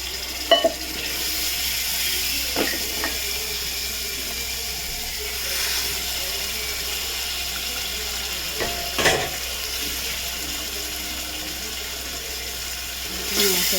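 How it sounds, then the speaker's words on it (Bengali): Grated tomato sizzles in frying spice paste for a chickpea dish cooked with mutton and fat, giving a soft continuous crackle with a few louder stirs and scrapes. "গ্রেট করে রাখা টমেটো দিয়ে দিলাম।"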